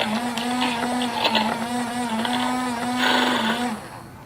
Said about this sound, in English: You just hear this like chewing and this like really heavy motor.